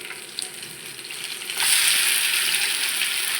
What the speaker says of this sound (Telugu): ఇది బాగా ఫ్రై చేసుకుంటానండి ఇంకా ఇలా పెనం మీద అయితే బాగా చేసుకోవడం బాగుంటుంది